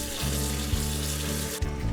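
Running water rinses soaked, drained shiitake mushrooms in a kitchen, a steady broadband wash with brief gurgling dips, close and continuous without talk.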